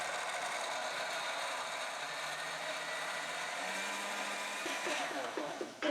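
A blender purees fresh tomatoes and peppers for a pasta sauce, whirring loudly and steadily for several seconds before it winds down near the end.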